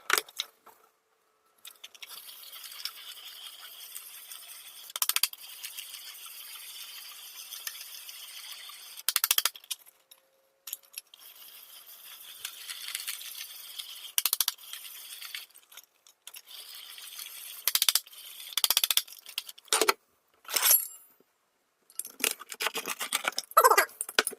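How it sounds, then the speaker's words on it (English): A pizza is cut on the metal mesh screen from a Beamnova 1900W 16-inch countertop pizza oven, giving repeated scraping, clinking bursts of varying length separated by brief quiet gaps, with no talking. "I'll try to put it over on the countertop and cut it right on the screen, on the mesh, and see what happens."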